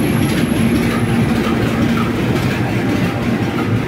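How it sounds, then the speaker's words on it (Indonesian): A KRL electric commuter train rolls past at Depok station, a loud, steady rumble with clattering wheels and a thin high squeal early on, continuous and close with no voices. "KRL yang akan dikirim ke PT Inka Madiun."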